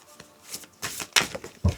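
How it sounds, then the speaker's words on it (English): A large, oversized tarot deck is shuffled in a few short papery riffles and slaps, close and fairly quiet, with brief pauses between bursts. "This deck is massive, so it's so hard to shuffle."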